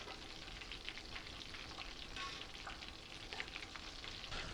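Breaded keto fried chicken crackles and sizzles in hot oil in a pan, a soft, dense, continuous frying hiss that runs evenly throughout without talking.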